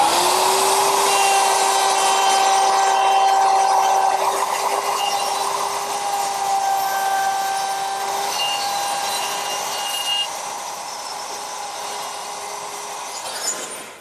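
Router fitted with a guide collar cutting a hinge mortise in wood for a Shaker woodbox, a loud, continuous high whine with a steady pitched hum that slowly fades slightly toward the end.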